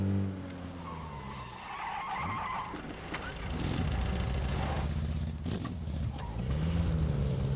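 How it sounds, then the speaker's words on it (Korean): In the battle royale game PUBG, a vehicle engine drones and tires skid as a car comes up from behind, its rumbling pitch rising and falling and growing louder over several seconds while a voice speaks now and then. "뒤에 차 소리"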